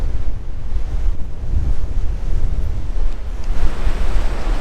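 Strong coastal wind buffets the microphone in loud, continuous gusts, mixed with the rumble of surf breaking nearby on the shore at Point Culver, Western Australia, with no voices.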